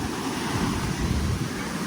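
Big waves crash and surge during Typhoon Opong at a coastal barangay in Sagñay, Camarines Sur. The roar is continuous and heavy, with low rumbling surf and wind buffeting the microphone throughout.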